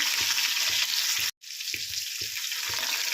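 Crushed garlic and finely chopped green chilies fry in hot oil, a close, continuous sizzle with soft stirring thumps and a brief silent break partway through.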